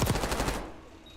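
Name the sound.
gunfire in a video game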